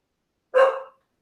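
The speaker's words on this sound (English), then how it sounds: "Sully loves to come in and bark every now and again." A single sharp dog bark, loud and close, ringing briefly in an otherwise silent room.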